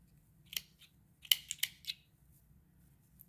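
Scissors snip through lace fabric in a straight line, giving a handful of crisp, close cuts in quick succession over a quiet background.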